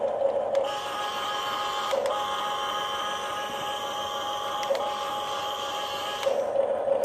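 A Huina 1550 RC excavator spins on its tracks, giving a steady whirring electric motor drone with periodic clicks, close and continuous, with no voices.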